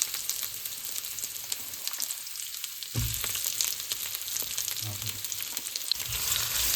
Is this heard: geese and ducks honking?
no